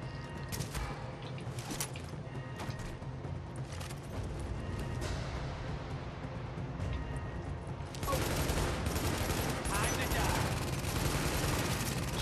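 Enemy gunfire in The Division, heard during a power plant fight, rattles in dense continuous bursts and grows louder and more intense partway through, with someone talking over it.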